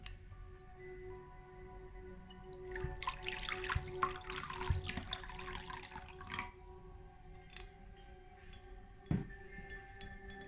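Charged moonlight water poured out during a full-moon candle ritual: a steady, splashing pour lasting a few seconds, fairly close, then trailing off to quiet with faint glassy clinks.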